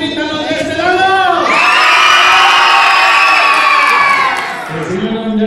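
Children in a theater audience at a live show shouting together, a loud sustained crowd scream that swells, holds for several seconds and then tapers, with scattered voices around it.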